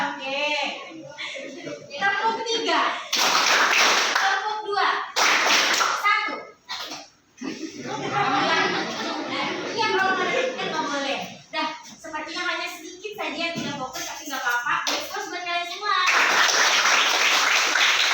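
A group claps a counted rhythm pattern during an online teacher coaching session, with short bursts of clapping between stretches of close talking voices.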